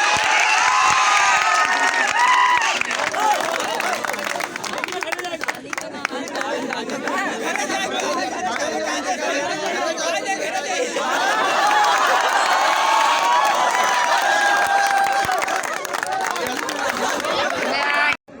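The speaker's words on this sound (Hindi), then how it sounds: "ताली बजा दीजिए भाई" Students at a coaching academy party applaud and cheer for their teacher, a steady wash of clapping, chatter and excited shouts filling the room throughout, with voices talking over the crowd noise.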